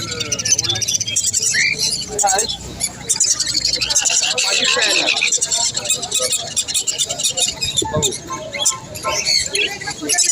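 Flocks of caged budgerigars at a foreign bird fair, chirping and chattering constantly in a dense, busy high-pitched chorus, loud and close, with someone talking over the birds.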